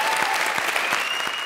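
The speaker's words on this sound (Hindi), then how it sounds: "तालियां दो यार" Studio audience at a Hindi comedy show applauds in a dense, even wash of clapping, loud and sustained throughout, with a faint tone running underneath.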